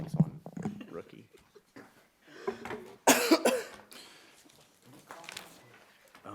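A single sharp cough bursts out amid murmured talk and shuffling, close and loud against the quieter voices.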